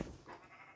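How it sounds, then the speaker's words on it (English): A single short, quiet bleat from a sheep, brief and somewhat distant. "That's a mighty sheep screech."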